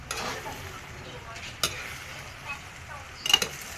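Pancit with celery leaves being stirred in a pan at a home birthday celebration, with soft scraping and faint sizzling, a few louder clinks of a utensil, and people talking quietly in the background.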